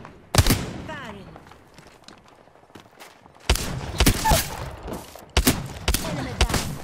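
Gunfire from Apex Legends: a sharp burst near the start, then dense bursts of shots from about 3.5 seconds on, with a quieter stretch between.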